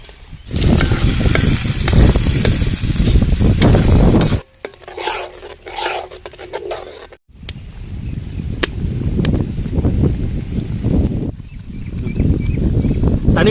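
Ground tomato paste hits a hot pan in a village kitchen while cooking chicken gravy, giving a loud, steady sizzle with rasping stirring that stops briefly, then resumes with softer frying noise.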